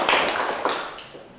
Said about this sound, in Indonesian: Tepuk tangan untuk kelompok KPK dulu